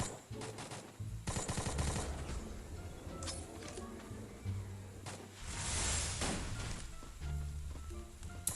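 Rapid gunfire in the mobile shooter game Free Fire rattles in dense, repeated bursts throughout, layered with game effects and a player's voice calling out underneath.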